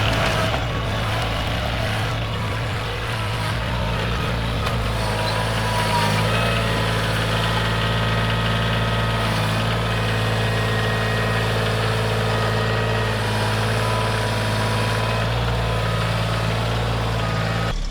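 A small Kioti tractor's engine runs steadily while its forks strain to lift a tree stump, a loud, close, continuous droning hum that deepens slightly as the load comes on, with no talk over it.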